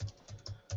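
Keys tapped in a short burst of four quick, fairly close clicks while a password is typed on a computer keyboard, with no voices.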